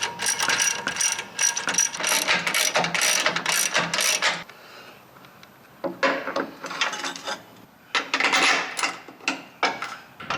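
Rapid bursts of ratchet clicking from a hand wrench tightening a Jeep JL Wrangler upper control arm bolt to the frame, close and crisp, in several runs separated by short pauses.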